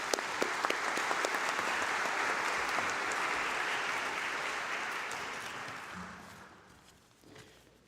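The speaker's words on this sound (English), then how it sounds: "Please give him a round of applause." An audience at a university anatomical gift memorial service applauds in a full, steady wash of clapping that holds for several seconds, then fades away into quiet room noise.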